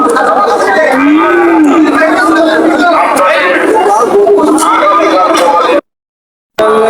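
At a busy rural cattle market, a cow lets out a drawn-out low moo amid loud crowd chatter and traders talking nearby, the din continuous until a brief cutout near the end.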